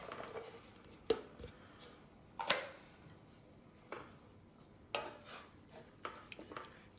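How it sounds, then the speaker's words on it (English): Farro grains go into a pan of cream and water over medium heat, with a few quiet clinks and scrapes of metal against the pan spread over several seconds. "And then I'll add the farro."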